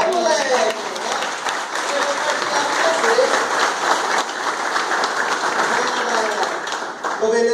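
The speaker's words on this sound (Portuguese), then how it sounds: "Queria pedir uma salva de palmas pra mim" An audience claps steadily throughout at a tech talk event, a dense continuous wash of applause with voices and cheering mixed in.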